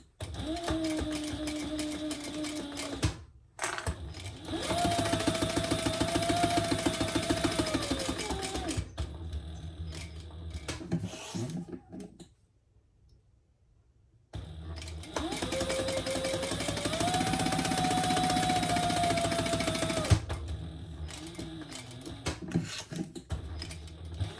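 A sewing machine stitches down the sides and bottom of a caramel ostrich leather piece, two long steady whirring runs close by with a short pause between them and a longer quiet gap in the middle.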